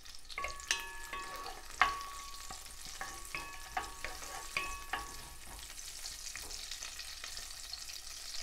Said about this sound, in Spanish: En la cazuela vamos a poner a guisar la cebolla